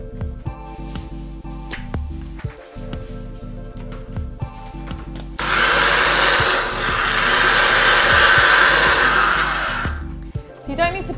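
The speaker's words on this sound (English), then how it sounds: "One cup of cornflakes into the blender with half a cup of oats." Kitchen blender grinding cornflakes and gluten-free organic oats, a loud whirring roar that starts after five seconds of quieter background and stops abruptly near the end.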